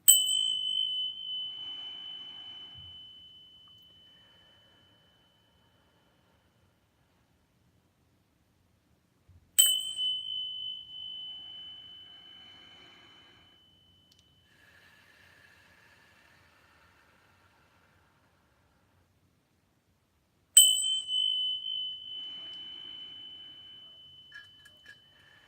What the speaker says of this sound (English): I'm going to start by ringing our bell